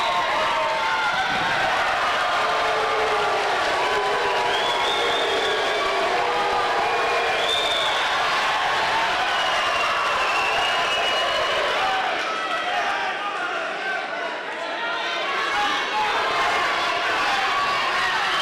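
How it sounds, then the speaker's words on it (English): A boxing crowd cheers and applauds in a roaring, unbroken wall of noise that stays loud for the whole stretch, with a commentator's voice running beneath it. "The crowd are up."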